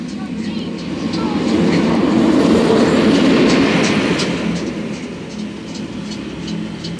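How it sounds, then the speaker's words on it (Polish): A train rumbles past nearby, swelling to a loud roar in the middle with rhythmic clacking, then fading as it moves away. "Nie zwracajcie na to uwagi, to tylko pociąg."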